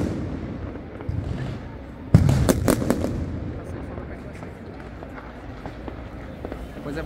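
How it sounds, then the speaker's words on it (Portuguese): Fireworks and firecrackers burst at a New Year's Eve celebration by the Colosseum in Rome, a cluster of loud sharp bangs after two seconds over a steady crowd murmur, with scattered distant pops continuing and people talking throughout. "faltam 5 minutos e os fogos já iniciaram por aqui"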